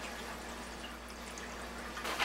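Cleaning solution and water running through a machine during a cleaning cycle, a steady pouring trickle with a low mechanical hum beneath, ending with a brief louder splash.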